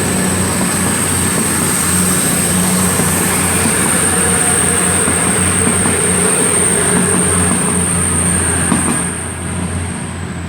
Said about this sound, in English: departing out now is 222-023, which is on The delayed 11:24 departure for Nottingham